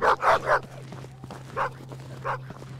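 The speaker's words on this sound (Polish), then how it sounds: "Pieseł, dajże spokój, co?" A dog in the video game VLADiK BRUTAL barks in a quick burst of three close, loud woofs, followed by two more spaced single barks over a steady low electrical hum.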